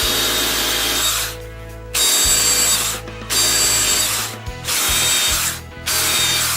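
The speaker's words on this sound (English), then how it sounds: "So we've drilled all of our holes." Power drill boring a series of holes in wood with a stop guide, loud whirring bursts broken by short pauses, about four drilling runs in close succession with no talking.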